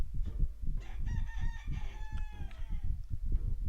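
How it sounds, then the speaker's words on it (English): A rooster crows nearby in a few drawn-out, wavering calls with some clucking, loud and close over background rumble, with no talk over it. "Rooster, really? Right now, in the middle of my content."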